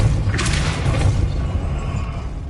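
A Depulso force spell goes off in Hogwarts Legacy, a whooshing, booming magical burst that rises out of a dense, loud rumble of game sound and then trails away.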